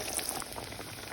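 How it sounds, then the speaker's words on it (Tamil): Vada batter sizzles as it fries in hot oil, a dense, steady crackle and bubbling heard close and alone at a low, even level. "இப்போ வடை போட்டு கொண்டு இருக்கிறேன்."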